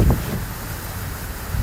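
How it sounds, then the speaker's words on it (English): Strong winter storm wind roars and buffets past an open car window beside boats on the water, a dense, steady rush with a gusty thump at the start. "you guys hear that wind?"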